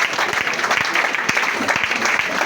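A church congregation claps at a French-language prayer service, a dense, continuous round of applause with a few sharper individual claps standing out close by and a faint voice underneath.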